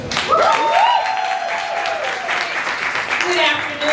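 Audience applauding for State Representative Felicia Robinson at a sickle cell disease care event, a burst of clapping and cheers lasting a few seconds, with a voice speaking over it.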